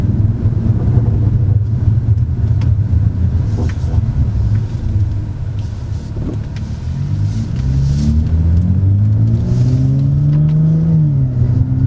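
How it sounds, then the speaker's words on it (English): A car engine accelerates and revs through the gears, with a rising whistle of turbo spool over a loud, steady rumble. "you'll really be able to hear that turbo spool a lot more."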